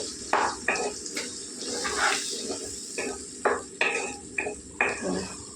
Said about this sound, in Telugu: బాగా కలిపేసుకుందామండి